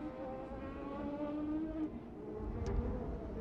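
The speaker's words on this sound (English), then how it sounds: "here comes the safety vehicle" An IndyCar safety car on the Detroit street circuit, a steady engine drone with shifting pitch, moderately distant and fairly faint, growing slightly fuller toward the end.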